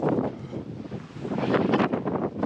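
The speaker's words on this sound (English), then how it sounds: "It's pretty windy right here." Strong gusty wind buffets the microphone on an exposed winter mountain trail on Roan Mountain, North Carolina, a rough, continuous roar that surges and eases with no voices.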